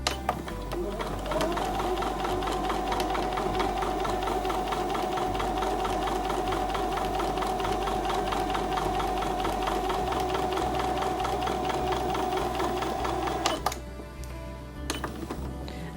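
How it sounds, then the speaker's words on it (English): A domestic sewing machine stitches down a line on a quilt block, its steady, close, mechanical whir running continuously for about thirteen seconds before stopping, followed by a little light handling. "now I'm going to sew down on the left hand line"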